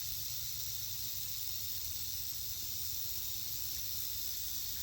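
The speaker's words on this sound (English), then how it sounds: "That's a rattlesnake." A rattlesnake on the Appalachian Trail, large and coiled several times, gives off a steady, unbroken buzzing hiss that holds for the whole stretch, close by and fairly loud, with no voices over it.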